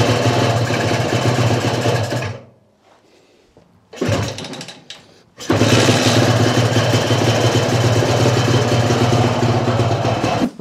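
A Peugeot engine, just reassembled, idles with a steady mechanical hum that cuts out briefly, sputters back, then settles into a loud continuous idle, close by with no voices.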